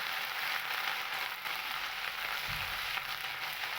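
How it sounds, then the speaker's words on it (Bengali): Ground ginger paste frying in hot oil for a paneer dish, a steady, dense sizzle holding at an even level throughout with a faint low bump near the end. "আদাটাকে হালকা একটু ভেজে নিয়েছি।"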